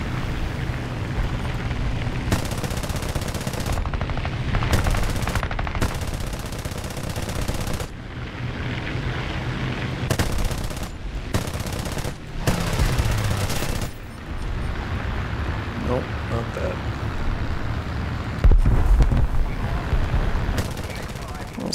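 Machine gun fire from an aircraft in the War Thunder air arcade battle, loud sustained bursts of rapid automatic shooting in several separate volleys over steady engine drone, with talk over it.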